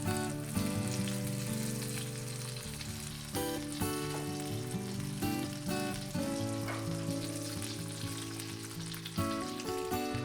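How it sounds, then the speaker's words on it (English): Tomato slices sizzle in melted butter in a skillet with a beaten egg mixture poured over them, a soft, steady frying crackle heard alone beneath loud background music. "Listen to that sizzle."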